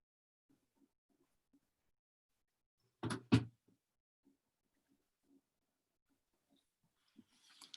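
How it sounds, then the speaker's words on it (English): A door closes with two sharp knocks in quick succession, a latch and a thud, standing out against an otherwise near-silent room. "I'm just going to close my door"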